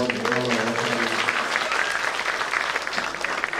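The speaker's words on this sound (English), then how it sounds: "Please give a big round of applause to all our Acharyas." An audience gives a big round of applause to a group of Hindu acharyas at a gathering, a dense, steady clapping that fills the whole moment with a faint voice underneath.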